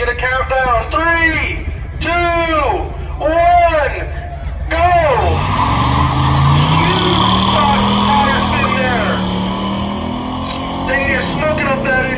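A red race truck roars around the M-40 Speedway track during a Night of Destruction racing program, its engine note swelling and rising after an announcer's voice, with crowd murmur underneath.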